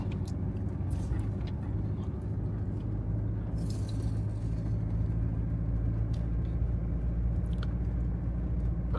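A camper van crawls along a rough off-road track in first gear, its engine droning in a steady, loud, low rumble inside the cab, with faint knocks and rattles from the bumpy ground.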